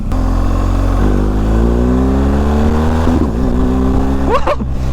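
A BMW GS 1250 Exclusive motorcycle engine revs loudly up close, pitch climbing steadily through a long pull, dipping, then surging in a quick final rev.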